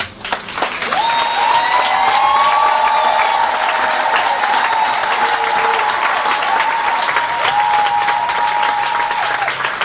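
A church congregation applauds steadily and loudly throughout, a dense wash of clapping with a sustained tone and faint cheering riding over it.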